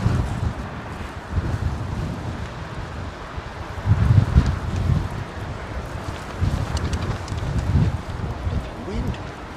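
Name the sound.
wind blowing at Heathrow airport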